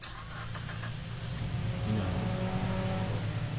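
Car engine in the survival game Unturned, a loud steady mid-pitched drone that swells slightly as it revs, running continuously and alone throughout.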